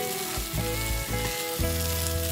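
Steady, loud sizzling of canned sardines dry-frying in a pan over a medium flame, with a few soft stirring scrapes, no voices.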